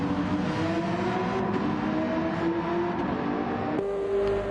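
A Porsche race car engine in Gran Turismo 7 at the Red Bull Ring holds a steady, whining drone under load, then shifts pitch abruptly near the end.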